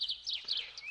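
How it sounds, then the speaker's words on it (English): Bird whistles in the fantasy video game Balrum, a quick run of bright, high chirps repeating in short bursts, close and fairly clear over a faint background. "Those bird whistles were extremely loud"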